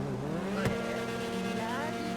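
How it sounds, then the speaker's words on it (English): A supercar's engine in GTA Online hums quietly with a smooth, electric-like tone and a brief sharp accent partway through, faint and steady rather than roaring. "That's the engine sound. It's not loud at all."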